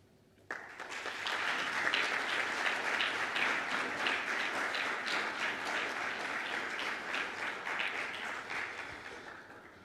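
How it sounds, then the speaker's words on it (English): A large audience at a summit closing breaks into applause that swells within a second or two and holds steady, with scattered individual claps standing out near the end. "Can I ask you to join this pledge with an applause?"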